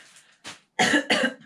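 A few short coughs from one person nearby, starting faint and ending with two louder, harsher bursts in quick succession.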